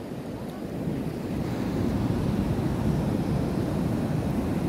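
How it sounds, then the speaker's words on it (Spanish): Large ocean waves wash steadily onto a beach as the tide comes in, a continuous loud surf roar with wind buffeting the microphone and no distinct breaks between swells. "Porque miren qué olas tan grandes."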